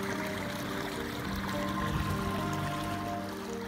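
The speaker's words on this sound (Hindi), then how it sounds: "इन कलकल करते झरनों ने" Babbling mountain streams and waterfalls in a Himalayan valley give a steady, close rushing and trickling wash, continuous and even throughout with no voices.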